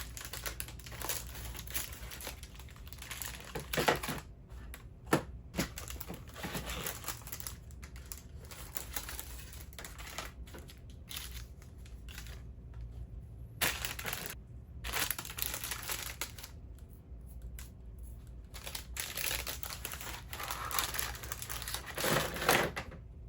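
Scissors cutting packaging tape on a GI Joe Classified Cobra CLAW toy package: irregular snipping and crinkling of tape and packaging close up, with bursts of crackly cutting and rustling over a long stretch, no voices.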